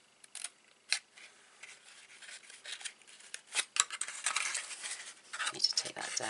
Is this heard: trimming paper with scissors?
yes